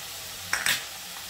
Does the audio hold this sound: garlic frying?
yes